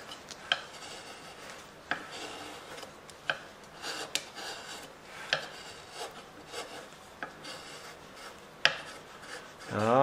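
A wood carving knife cuts into soft wood, giving repeated short rasping scrapes and light taps at an irregular, unhurried pace, recorded up close with no talking.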